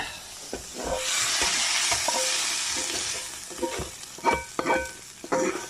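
Croutons and stuffing ingredients being stirred and tossed in a bowl for Thanksgiving stuffing, a dry rustling crunch with scattered soft knocks, close and steady, no voices.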